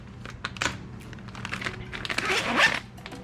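The package of a Steeda clutch line being opened: short crinkling and tearing rustles up close, building into a louder burst of plastic noise near the end, with no talk.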